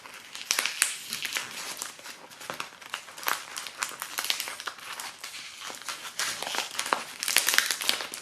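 Patterned wrapping paper with a scales design crinkles and rustles steadily as it is pulled off a yarn advent calendar gift, with repeated close crackling bursts and no tearing.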